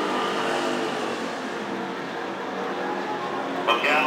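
Hobby stock race cars roar around the oval at Antioch Speedway, a steady loud blend of engines holding through the clip and swelling slightly near the end, without talking.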